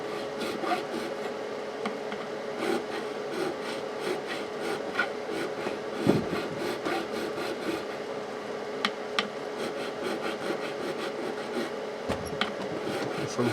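Frets on a Fender Stratocaster are dressed with a file in a rhythmic series of close, dry rasping strokes, each a short scrape repeated steadily, with an occasional light knock.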